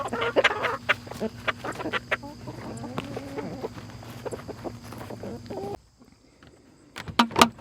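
Meat chickens clucking and murmuring close by in a pasture coop, a busy overlapping chorus that drops out briefly before sharp bursts of clucks return.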